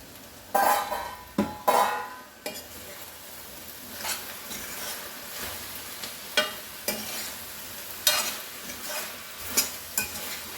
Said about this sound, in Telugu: ఇప్పుడు మూత తీసి ఒక్కసారి కలుపుదామంతా